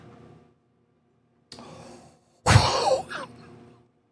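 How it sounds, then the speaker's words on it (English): A man gives a short cough, a brief faint catch followed a second later by a louder, rough throat-clearing burst near the microphone, with silence in between. "Nice cough there at the end, dude."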